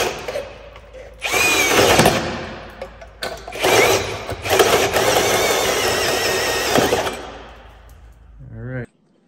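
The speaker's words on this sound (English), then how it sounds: "Apparently I have to go charge the drill." A cordless drill with a nearly dead battery bores into paper-thin sheet metal on a coupe, a whining grind in several bursts with short pauses, loud and close, then a brief winding-down whir before cutting off.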